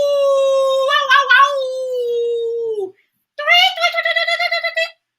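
A human voice imitates an animal howl, two long wavering howls with a brief pause between, loud and close.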